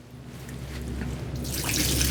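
Water runs and trickles as soaked raw wool, cold-soaked with locks about 3 inches long, is squeezed out, starting faint and swelling into a louder splashing pour near the end.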